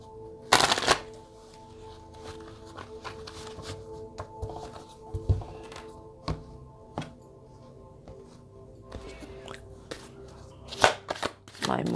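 A deck of oracle cards being shuffled by hand, with loud riffling bursts near the start and again near the end, softer scattered card taps and shuffles between them, close up and with no talk.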